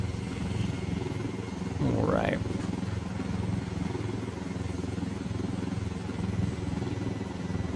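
A helicopter in the video game Ghost Recon Wildlands gives a steady, loud low engine and rotor drone throughout. A short rising whine stands out near the middle, and someone speaks briefly over it.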